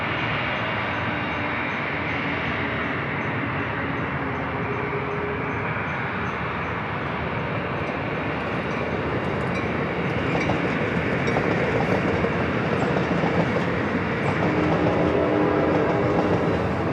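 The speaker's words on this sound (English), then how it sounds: "Oh, you guys want another train?" Train rolling past close to San Diego airport, a steady broadband rumble with faint clickety-clack of wheels on rails that holds throughout and grows slightly louder toward the end, with no talk.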